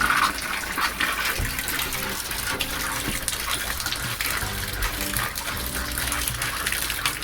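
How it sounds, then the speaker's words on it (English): Travel trailer water pump running while being winterized, pushing water out through the pipes and a faucet, a loud gushing, splashing stream with a faint rhythmic pump pulsing beneath. "Just turn on the water pump for 3-4 minutes."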